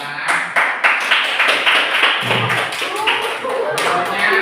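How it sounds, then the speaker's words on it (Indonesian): Students in an Indonesian classroom clap together in a short burst of sharp, close hand claps, with voices talking over and between the claps. "berikan tepuk tangan."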